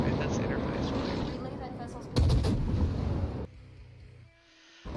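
Naval video game warship guns firing over at a Des Moines cruiser: a heavy booming salvo bursts out loud midway over constant engine and sea rumble, then the background drops quiet.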